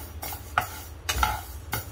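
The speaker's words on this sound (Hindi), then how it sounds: "इन सब मसालों को बिना तेल के ही भूना जाता है।" Fenugreek seeds are dry roasted without oil in a pan, giving a few sparse, fairly quiet scraping and stirring strokes spaced apart against a low background.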